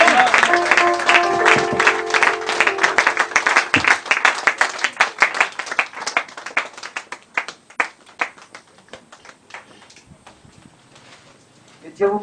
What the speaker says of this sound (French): Commencez à l'acclamer